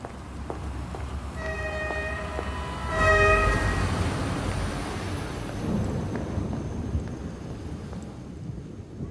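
A train horn sounds twice, its long tonal blasts over the deep rumble of a train passing, the rumble swelling and then slowly fading.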